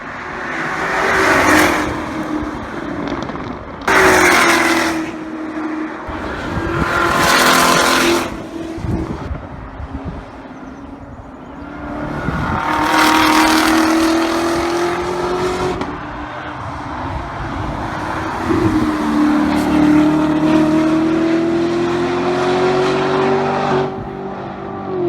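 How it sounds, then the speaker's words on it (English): A 2018 Chevrolet Corvette ZR1 laps the track at Laguna Seca. Its engine climbs and drops through repeated gear changes, with several loud, roaring passes close by across a long stretch of continuous driving. "Check out some of this 18 ZR1 footage on the track at Laguna Seca."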